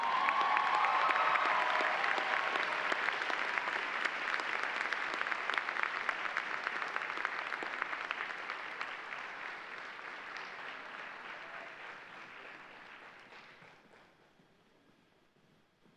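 Sustained applause from a large audience at a medical college hooding ceremony, steady and full-bodied for most of its length before tapering off and fading out near the end.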